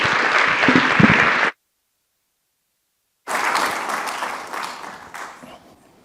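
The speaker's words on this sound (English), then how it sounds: "let's give a round of applause to soon-to-be Dr." Applause from a symposium audience for a speaker, a full burst of clapping that cuts to silence for almost two seconds, then resumes and gradually fades.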